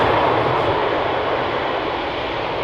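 A large airliner rolls off the runway at Amsterdam Schiphol Airport, its engines giving a steady, broad roar that holds at moderate distance without pause.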